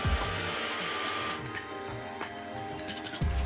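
A hair dryer blow drying natural hair while straightening it gives a steady close whooshing roar with slight pitch shifts as it moves, continuous and without talk.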